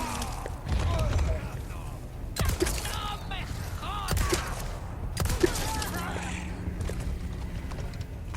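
Several sharp gunshots ring out in Resident Evil 4 Remake's fishing village, spaced irregularly among clattering mechanical noises and ambient game sound.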